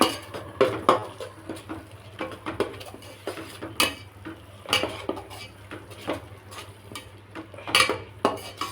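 A spoon stirs and scrapes spices such as coriander powder in a metal pan for potato chicken curry, with repeated clinks and scrapes in an irregular rhythm over a low steady hum, close by and moderately loud.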